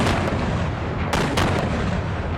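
Mortar rounds fired at a bunker, heard as loud, continuous rumbling blasts with a couple of sharper reports in the middle, no voices over them.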